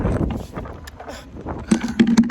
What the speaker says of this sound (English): it's very windy outside